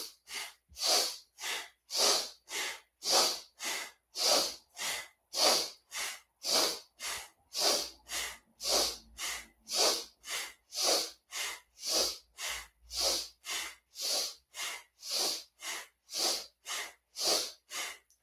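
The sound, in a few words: breathing in and out through the nose during yoga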